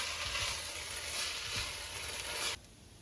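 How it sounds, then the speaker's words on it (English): Rice for polau sizzles and crackles steadily in a pan over medium heat with occasional stirring scrapes, then the frying noise drops away abruptly near the end. "We're now frying the rice"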